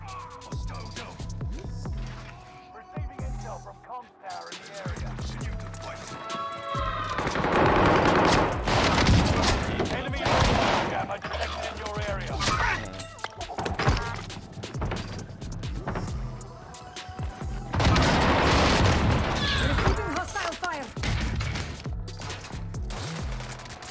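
Heavy gunfire fills a Warzone Rebirth Island gunfight. Rapid automatic bursts and fusillades come close and loud in waves over a low engine rumble, with short pauses between exchanges.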